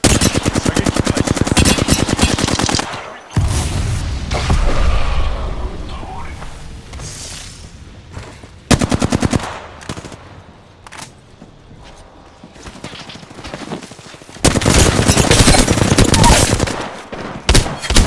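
Rapid automatic gunfire in Apex Legends, loud bursts of repeated shots at the start and end with quieter stretches of movement and effects between.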